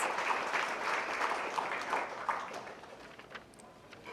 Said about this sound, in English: let's give everyone, especially our sponsors, a round of applause